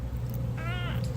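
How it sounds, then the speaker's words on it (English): A talkative cat gives a single short meow, close by, over a steady low background hum. "That's my talkative cat."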